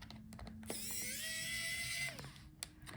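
A small electric screwdriver whirs as it backs screws out of a Lenovo ThinkPad X1 Carbon 7 laptop, one steady high whine lasting just over a second, close up, framed by light clicks and handling noises.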